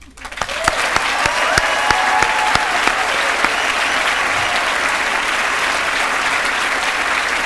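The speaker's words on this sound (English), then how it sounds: "let's take this time to applaud these students right now" An audience claps loudly and steadily for graduating students at a Bennington senior class ceremony. The dense applause swells within the first second and holds full for the rest of the span, with a few scattered cheers rising above it.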